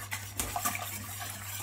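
Salt, flour and milk are mixed together in a bowl: a brief, quiet stretch of wet stirring with a few light clinks over a low background hum.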